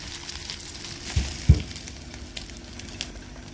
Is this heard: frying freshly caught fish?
yes